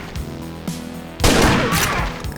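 A double-barrel shotgun fired in the Ashes: Dead Man Walking video game, a single loud, close blast with a long rumbling roar after a brief click of handling just before it.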